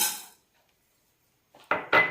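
Washed, drained rice is tipped into a pan for dry roasting while making Kerala munthiri kothu: a few brief, close metallic clatters and scrapes arrive near the end after a quiet pause, with no talking.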